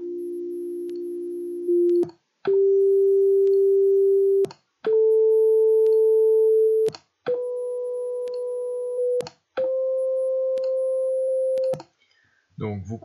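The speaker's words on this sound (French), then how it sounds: "vous entendez que le son devient de plus en plus aigu" Pure sine-wave test tone steps up a musical scale, each note a steady held pitch a little higher than the last, about five notes with short clicking gaps between them, and a voice briefly speaks at the end.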